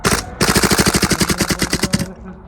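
A Tokyo Marui MWS gas airsoft rifle fires rapid full-auto bursts, with a brief opening burst, a short gap, then a long steady string of loud, close, evenly spaced shots that stops abruptly.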